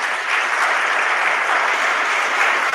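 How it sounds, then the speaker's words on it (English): A school auditorium crowd claps loudly and steadily for newly honored senior officers at a National Honor Society induction, dense continuous applause filling the room with no talk over it. "I would like us all to give them a big round of applause"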